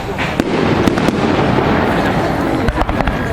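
Fireworks burst and crackle at an amusement park, a dense continuous barrage of pops and booms with sharper bangs near the end, loud and close, with crowd noise in the background.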